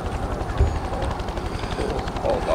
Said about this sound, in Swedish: Helikopter på ingående.